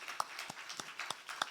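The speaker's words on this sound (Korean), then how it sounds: "감사 박수 올리겠습니다." A church congregation clapping during a Sunday service, a few sparse, separate claps spaced unevenly and sounding faint and distant.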